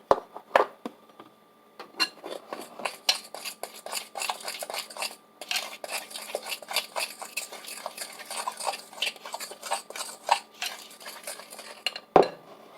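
Banana fritter batter being mixed in a bowl, a utensil scraping and clinking steadily against the sides in quick, busy strokes, close up, with one sharper knock near the end and no talking.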